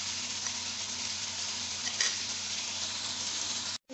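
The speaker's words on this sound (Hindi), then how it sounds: "हमने चिकन ऐड कर दिया और अब इसको ज़रा मिक्स कर देंगे" Chicken sizzles and fries in a karahi pan while being stirred, a continuous close frying hiss with light scraping touches, cutting out abruptly for a moment near the end.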